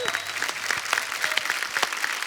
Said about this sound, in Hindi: जोरदार तालियां हुमा और साकिब के लिए।